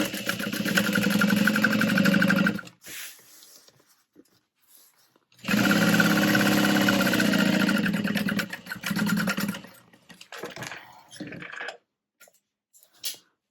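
A sewing machine runs in two long bursts, sewing the exterior and lining of a tote bag together with right sides facing. Each burst is a fast, even mechanical whir close up. Quieter handling noises and clicks fill the pauses.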